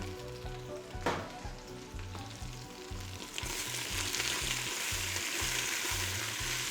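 Caramelized onion with tomato and leek sizzles in a pan, a close, steady frying hiss that swells louder midway after a clatter as the vegetables go in.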